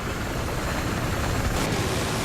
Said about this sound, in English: Release the controls. The helicopter is righting itself.